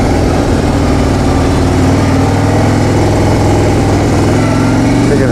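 A 2015 Harley-Davidson Street Glide rumbles loud and close while ridden in first gear, its V-twin engine droning steadily with a low, pulsing throb throughout.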